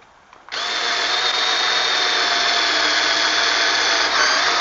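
A Ryobi power screwdriver starts abruptly after a brief quiet moment and whines at a steady high pitch while driving a screw, loud and close, running continuously to the end without speech.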